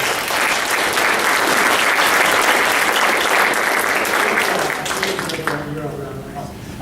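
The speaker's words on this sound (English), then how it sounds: "let's give them a big round of applause" An audience at a general meeting applauds, a dense sustained wash of clapping from many hands that fades out toward the end as a voice starts up.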